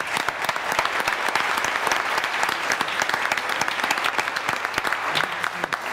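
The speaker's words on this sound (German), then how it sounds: "Applaus für Andreas." A studio audience at a live televised German finale breaks into sustained, dense applause, loud and steady for the whole stretch, with no voices over it.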